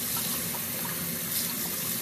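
Water pours steadily into a bowl of red beans set to soak, a continuous close rushing and splashing from a tap with no talking.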